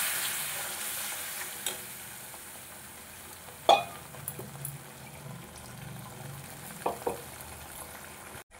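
Spice paste frying and being stirred in a pan for a rohu fish curry, a low steady sizzle with a few sharp scrapes and knocks of the spoon against the pan, fairly quiet throughout.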